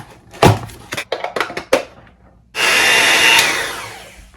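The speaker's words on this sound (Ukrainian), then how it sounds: "міксер ще навіть не розпаковувала. Тож, нарешті настав його час." An electric mixer whirs up loud and steady at close range after a series of short knocks and handling thumps, then fades toward the end.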